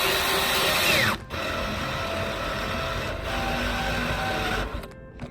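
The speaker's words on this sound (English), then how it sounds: "Whenever you're putting your screws in, you need to make sure that they're countersunk." Power drill driving and countersinking screws into sheetrock during a drywall repair: a loud, sustained whirring motor with a couple of brief stops between runs.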